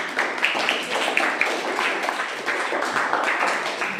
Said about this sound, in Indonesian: Ya, berikan tepuk tangan untuk teman kalian.